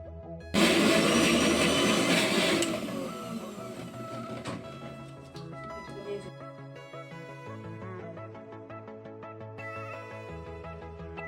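An electric mixer grinder whirs loudly as it blends green peas, chopped green chilli and ginger into a paste, a harsh roar at first that settles into a lower steady hum, with background music under it.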